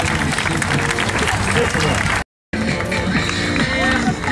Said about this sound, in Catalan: Forta l'aplaudiment per la voluntària.